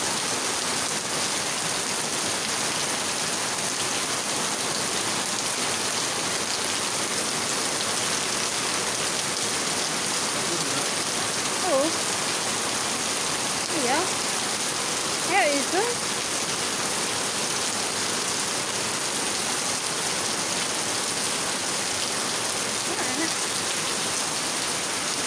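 Steady, dense hiss of heavy night rain pouring continuously in Davao, Philippines, with a few faint voices barely audible underneath.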